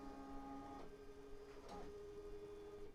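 An embroidery machine sews a placement stitch with a steady mechanical whir and hum, moderately quiet and close, with a brief shift in pitch partway through and no speech.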